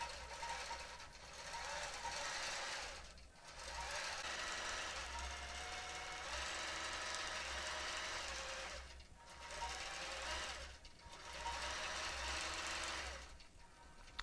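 A quilting machine stitching freehand, its fast steady needle chatter running in long bursts with short pauses between, close and continuous.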